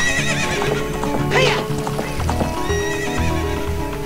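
Horse in The Legend of Zelda: Ocarina of Time galloping across Hyrule Field, with a loud whinny midway and steady clip-clop hoofbeats under cowboy-style game music.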